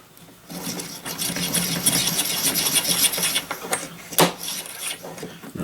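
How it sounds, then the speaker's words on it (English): A brass cartridge case is trimmed to length with a case trimmer, giving a close, continuous scraping and rasping cut that builds steadily, with a sharp click near the end. "it's just a simple matter of trimming to length."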